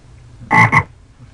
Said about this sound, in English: Nice little rivet sound.